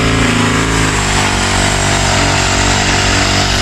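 A grass cutter runs at full throttle close by, a loud, steady, buzzing two-stroke engine whine with no pauses.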